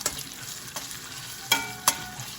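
Garlic sizzles and fries in a hot pan, a steady crackling hiss broken by a few sharp scrapes and clinks of a utensil stirring it.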